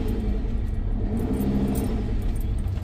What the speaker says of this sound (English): I'm definitely hearing an air leak here